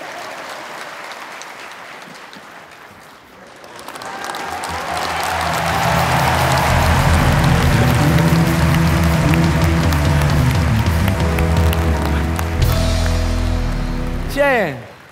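Theatre audience at a Christmas comedy show in the Petruzzelli breaks into sustained applause that swells after a few seconds and grows loud, while a tonal musical sound plays underneath and a sweeping sound rises near the end.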